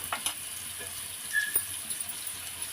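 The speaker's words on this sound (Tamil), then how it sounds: "லைட்டாக வதக்கிங்க அப்படியே கேரட்டு சேர்த்துக்கலாம்" Finely chopped onion and carrot sauté lightly in a pan for chicken fried rice, a soft, steady sizzle with a few light scrapes and taps of a spatula, close but fairly quiet.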